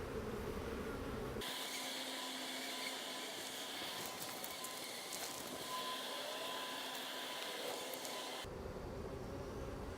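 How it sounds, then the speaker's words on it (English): A dense, continuous buzzing of many honeybees close by at an open hive, steady and droning, with a brief gap of quieter hum near the start and end. "there's going to be too many bees in here"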